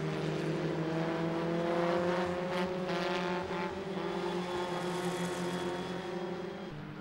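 Historic and classic racing cars at the Walter Hayes Trophy at Brooklands, engines roaring loudly as they pass close, revving and fading under continuous engine noise.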